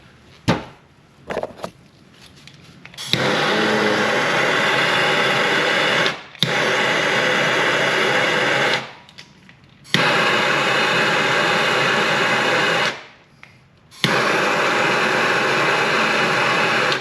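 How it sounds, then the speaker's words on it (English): MAP gas torch heating a hydraulic cylinder from a Mercedes SL500 soft top, a steady loud roaring hiss in four long blasts, separated by brief quiet pauses and a few clicks. "Now I'm going to take some MAP gas"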